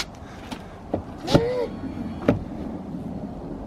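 A Ford F-150 pickup door, fitted with running boards and big wheels, opens with a few short clicks and a latch clunk, near and fairly quiet.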